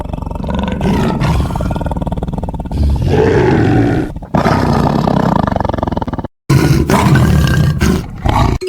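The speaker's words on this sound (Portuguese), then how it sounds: "Esse é o som de um tigre." Several loud, close tiger roars and growling grunts follow one another with brief gaps, each burst deep and rasping.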